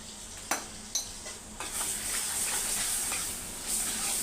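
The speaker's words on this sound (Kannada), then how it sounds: "ಪುಳಿಯೋಗರೆ ಪೌಡ್ರ್ ಹಾಕಿ ಸ್ವಲ್ಪ ಫ್ರೈ ಮಾಡಿ" Puliyogare powder frying in a pan, opening with a few sharp clinks of a utensil against the pan, then a continuous bright sizzle with faint stirring scrapes, close and steady.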